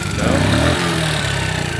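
A 50cc kids' quad engine idles after years of sitting, with a steady, throbbing putter, close by and fairly loud, the rhythm wavering slightly.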